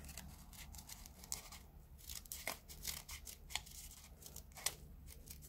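Scissors snip through paper in a series of short, quiet cuts and crisp rustles as a paper figure with feet and a dress is trimmed, close by and faint, with no talking.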